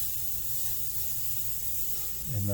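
Paint is sprayed onto a Chevelle body as a close, steady hiss lasting about two seconds, ending with a brief tonal sound.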